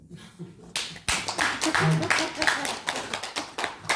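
A lecture audience claps in a brief burst after a light hearted question, sharp hand claps starting abruptly and rising into a dense patter, mixed with murmuring voices and some laughter in the hall.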